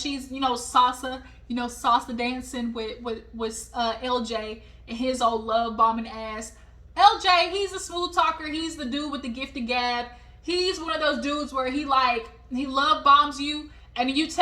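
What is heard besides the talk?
None of the usual background noises is heard.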